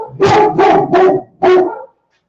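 A dog barks at the mailman at home: three quick, loud, close barks, then a short pause and one final bark before silence.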